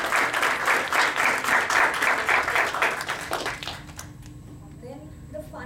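Meeting audience claps in a sustained burst of applause that fades after about four seconds, leaving quiet room sound and a brief voice.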